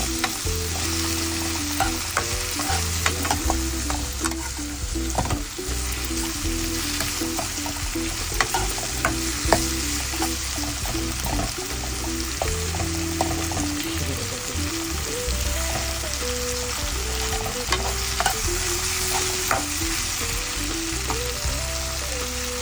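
Tomatoes fry and are stirred in a pan for tadka dal, a steady close sizzle with repeated scraping strokes of the spoon throughout, over a low constant hum and no voices.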